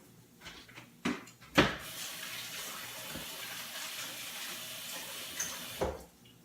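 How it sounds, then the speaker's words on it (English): Hands are washed under a running kitchen tap after handling raw egg while fish cakes are made. A steady, fairly faint water stream runs for several seconds, with a few clunks and knocks at the start and end. "Remember, always wash your hands after you've handled an egg."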